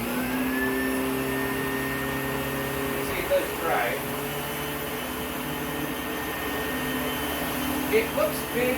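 A Filter Queen Majestic vacuum cleaner runs with a steady, loud, airy motor roar and a high whine, while a few small handling knocks come and go over the constant drone.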